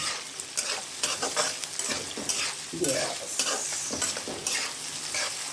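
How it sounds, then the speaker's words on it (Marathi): Potatoes and green chilies sautéing in hot oil for sabudana khichdi: a steady close sizzle, broken by repeated rhythmic spatula scrapes and stirs, heard alone. "हा बटाटा ब्राऊनिश रेड ब्राऊनिश होतपर्यंत परतून घ्यायचं"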